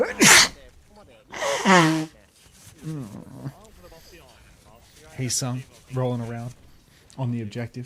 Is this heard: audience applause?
no